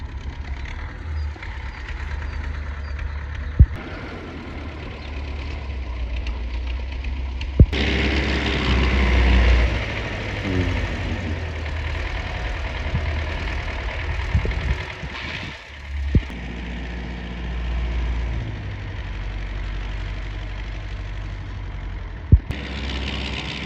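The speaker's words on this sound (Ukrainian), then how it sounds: "поки там трактор орев" A steady low engine drone of a tractor ploughing a garden plot rumbles through the whole stretch, its pitch and load shifting slightly with occasional clunks.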